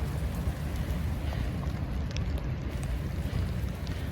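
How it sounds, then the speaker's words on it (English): Steady rain falls on a moored sailboat, a dense, even hiss of drops on the surface with soft low rumble, continuous and fairly close throughout, no voices. "you're the only one enjoying the rain"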